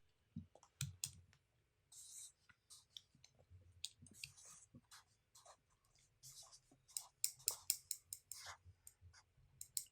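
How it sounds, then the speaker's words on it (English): A marker scratches and clicks on paper in short, irregular bursts of sharp ticks and scratches, quiet and close, with brief pauses and no talking. "Can you guys hear my marker?"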